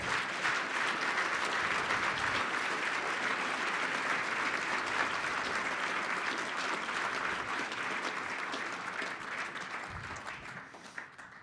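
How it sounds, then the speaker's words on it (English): An audience applauds an award honoree at a Dignity through Work event, with sustained, dense clapping from a large crowd filling the room and tapering slightly near the end. "Let's give this guy a well-deserved round of applause."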